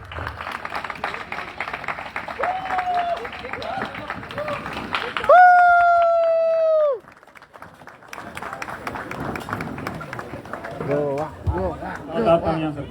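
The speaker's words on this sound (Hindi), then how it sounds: "जोरदार तालियां सर के लिए, जोरदार तालियां" A crowd at a 100 Diamond celebration event in Goa applauds and cheers loudly. A long, loud horn blast cuts through midway before the clapping and chatter resume, with a speaker's voice over the noise.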